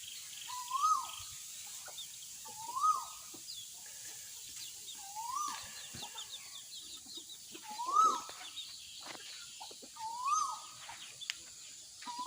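Chickens eat flying termites, giving short, rising clucks every couple of seconds over soft scratching and pecking noises, fairly close, with no talking.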